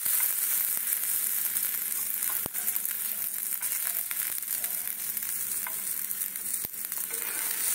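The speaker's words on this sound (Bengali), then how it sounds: "ওর মধ্যে ছোলার ডালগুলোকে ভেজে নেব" Soaked chana dal frying in a small amount of oil, a steady close hiss and crackle with occasional sharp ticks from stirring, continuous throughout.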